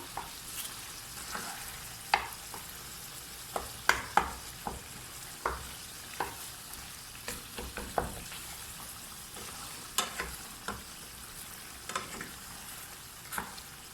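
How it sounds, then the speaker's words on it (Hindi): Intermittent scraping and tapping of a utensil mashing tomatoes in a frying pan, with a quiet sizzle underneath; no voices. "अब अपने इन टमाटर्स को हम अच्छे से मैश कर लेते हैं इसमें।"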